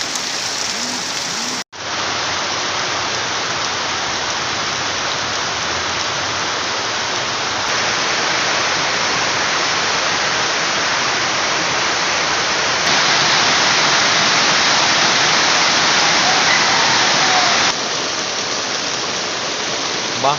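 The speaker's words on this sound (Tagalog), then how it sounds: "biglang lumakas ang ulan guys eh ano baha" Heavy typhoon rain pours down during flooding in Metro Manila, a loud, dense, unbroken hiss of downpour that starts after a brief cut and continues alone for the whole stretch.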